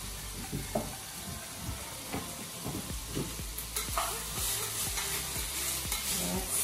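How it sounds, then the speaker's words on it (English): Summer vegetables for ratatouille sizzle steadily in a pan on the stove while a utensil scrapes and stirs them in an irregular series of close, distinct strokes. "now we've got these awesome summer veggies cooking up"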